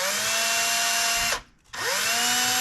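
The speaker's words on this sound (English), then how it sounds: "I'm taking the shafts and just chucking them in the drill" Electric drill spinning RC buggy shafts while they are polished with fine pads, a loud whine that winds down, pauses briefly, then spins back up to full speed.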